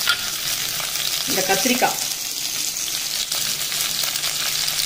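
Eggplant, okra, capsicum, a green chili, tomato and curry leaves sautéing in hot oil for kathamba sambar, a steady close sizzle with a brief burst of stirring and a few spoken words over it.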